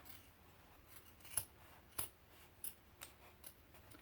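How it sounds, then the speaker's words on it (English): Scissors snip through the fabric of a man's dress shirt to remove its cuff, producing a series of about six sharp, fairly close cuts spaced roughly half a second apart over a quiet background. "first thing you're going to do is just cut the cuff off of the shirt."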